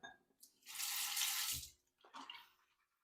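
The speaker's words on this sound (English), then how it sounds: "Let's add some water." Water splashes briefly into a small shaving bowl, a gurgling pour lasting about a second, then a shorter second splash after a pause.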